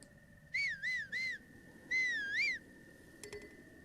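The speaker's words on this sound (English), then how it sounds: "Whistle." A whistle for a horse in the video game Breath of the Wild: three short rising-falling whistled notes, then a longer wavering one, clear and close over quiet game ambience, and a faint chime afterwards.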